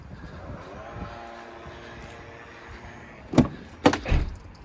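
The electric tailgate of a Volvo XC60 2.0 D4 SE diesel whirs steadily as it moves, a soft motor drone near at hand, ending in a few sharp clunks as it latches.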